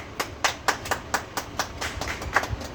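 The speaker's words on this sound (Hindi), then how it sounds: "एक बार ताली लग जाए सर।" A small group of people claps in short, irregular bursts after a student finishes speaking at a coaching school event, the claps fairly close and steady throughout with no voices.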